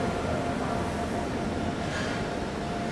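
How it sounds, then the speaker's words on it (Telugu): Passenger train rumble from the New Delhi–Trivandrum Kerala Express at the next platform of an Indian station: a broad, steady low roar with wheel and carriage noise, continuous and fairly close, with no clear talk. "పక్క ప్లాట్ఫామ్లోకి మీరు చూడొచ్చండి, స్టేట్ ట్రైన్ పేరు పెట్టుకున్న ఒక ప్యాసింజర్ బండి అయితే వచ్చింది"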